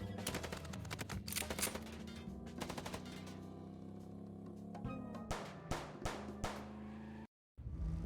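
Rapid machine-gun bursts and gunshots crackle through a shootout in the Chicken Police video game, loud and nearly continuous with heavier blasts toward the end, then a brief dropout of silence.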